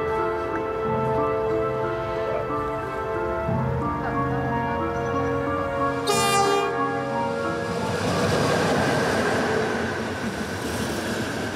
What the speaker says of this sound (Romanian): călătoriile simbol efectuate de Majestatea sa Margareta cu trenul regal